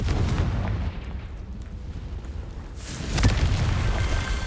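Confringo fire-blasting spells explode in the video game Hogwarts Legacy, a loud rumbling burst fading out and then a second boom hitting near the end, with no voice over them.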